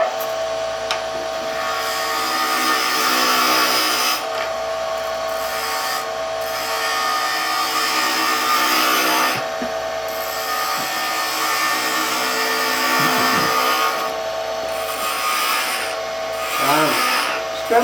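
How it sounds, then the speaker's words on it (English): A wood spindle spins on a lathe while a turning tool rubs and scrapes along it, producing a steady, continuous cutting sound throughout. "Spindle turning,"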